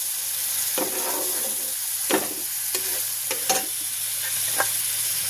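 Spice masala with cashews, raisins, tomato, cumin, ginger, salt and turmeric frying in a pan, with a steady sizzle under repeated scraping stirs of a spoon, close and moderately loud.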